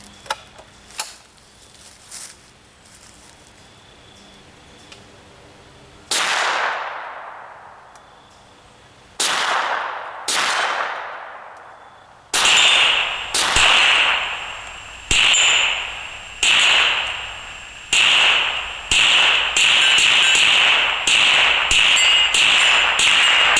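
Muzzelite bullpup 10/22 rifle plinking outdoors: about nine sharp, loud shots in an irregular rhythm, each followed by a quickly fading echo, some fired in quick succession.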